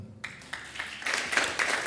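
Congregation clapping during a Sunday morning church worship service, a short burst that starts abruptly after a brief quiet and swells into fuller applause.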